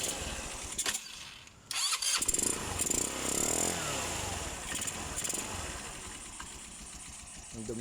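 A 2019 Motorstar Easyride 150R motorcycle engine runs loud and rough with a noisy air cleaner, a close, steady mechanical roar after a brief dip near the start, with no talk.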